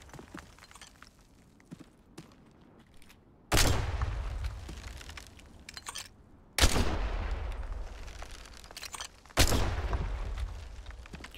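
Gunfire in the video game Duckside while shooting at a box, three loud sustained bursts of rapid shots, each a few seconds long, separated by quieter gaps with small clicks.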